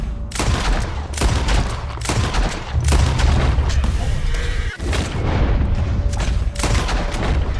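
Rapid, loud gunfire in Red Dead Redemption 2: a close volley of sharp shots cracking repeatedly over several seconds, with short pauses between bursts and a busy rumbling background.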